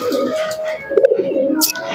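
Madras pigeons at a pigeon sale coo in a low, throaty burble, close and fairly loud, with a brief break mid-way and a sharper call near the end.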